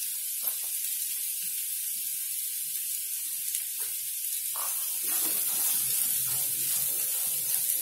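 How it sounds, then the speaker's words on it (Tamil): Cluster beans and onion sautéing in hot oil in a pan give a steady, close hiss throughout, with a louder burst of sizzle and scattered crackles over the second half. "ஒரு 2 மினிட்ஸ் வதங்கட்டும். எண்ணெயிலே வதங்கட்டும்"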